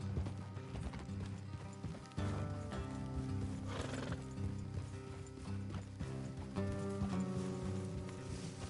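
Horses in the Red Dead Redemption 2 video game, with neighing and a clip-clop of hooves over a continuous bed of game music and ambience, moderately loud and steady throughout.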